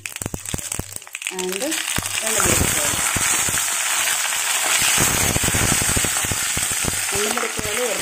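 Mustard seeds and dry red chillies frying in hot oil for a tempering give a loud, continuous sizzle with dense crackling pops, with someone talking over it in places.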